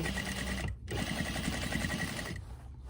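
A sewing machine runs close up while stitching a zipper onto a dress, a fast, even mechanical whir broken by one brief stop before starting again.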